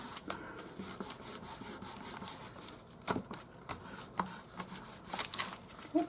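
A homemade wooden stamp cut from offcuts is rubbed clean of Distress Oxide ink, giving close, continuous scratchy rubbing strokes with uneven bursts and a few sharper scrapes, with no talking.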